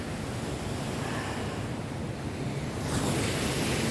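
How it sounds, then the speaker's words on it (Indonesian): Ocean waves at the beach at Ujung Genteng in Sukabumi, West Java, make a continuous broadband roar of surf mixed with wind buffeting the microphone, swelling slightly near the end. "Nah, ini situasi di pantainya."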